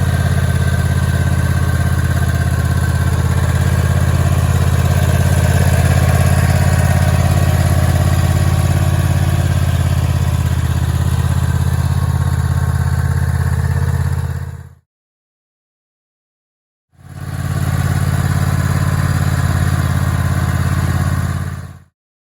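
A lawn mower engine runs loud and close while pulling a DIY grass striper, holding a steady droning idle, cutting out abruptly to silence for about two seconds, then starting back up just as loud.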